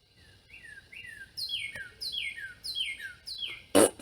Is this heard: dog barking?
no